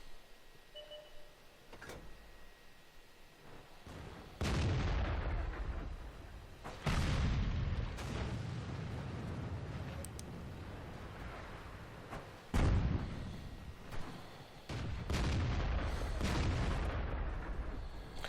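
A Crusader SP self-propelled gun fires in World of Tanks on the Lakeville map, with several heavy booms at irregular intervals, each followed by a rumbling reverberant tail over quieter engine noise.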